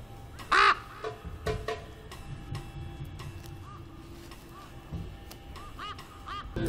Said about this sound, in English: The brown-necked ravens continue to patrol the skies.